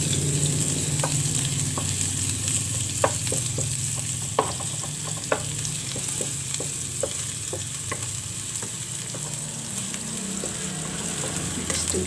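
Sliced onion and minced garlic sauté in a pan with a continuous close sizzle, punctuated by sharp irregular taps and scrapes of a utensil stirring against the pan.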